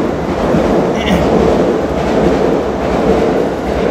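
Steady, loud rumble of an electric train in motion, a constant clattering roar filling the space with a brief high squeal near the start.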